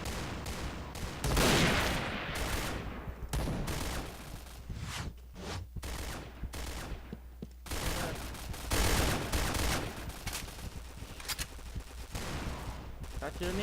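Gunfire in the video game PointBlank crackles in dense, continuous volleys and rapid bursts, loud and close throughout, with voices talking over the shooting.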